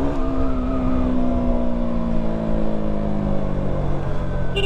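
A KTM Duke 200 motorcycle accelerates hard on a night ride in Mumbai, its engine note loud and close as it revs steadily and gradually changes pitch, with no talk.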